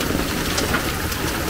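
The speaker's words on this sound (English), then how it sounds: "Man, there's a lot of hail everywhere." Dense, rapid pattering of hail striking a Jeep's surface, a constant clattering hiss with no pauses.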